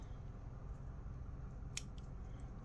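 A single crisp snip of scissors trimming excess threads from a sewing project, sharp and brief against quiet background hum, followed by a couple of fainter clicks.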